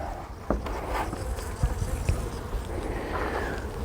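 Bees buzz densely and close by during a hive inspection for swarm cells, a continuous droning hum with occasional soft knocks and thumps mixed in.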